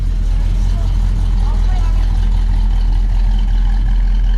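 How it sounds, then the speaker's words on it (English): A Fox Body Ford LTD fitted with a ram air hood scoop runs steadily up close, its loud, continuous low rumble and engine hum filling the whole stretch without a break. "Look at that, fires right up, dude."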